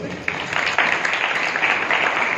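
A crowd claps for a sister at a church youth retreat question-and-answer session in Nabarangpur, producing dense, steady applause that swells slightly and continues for the whole stretch without talk.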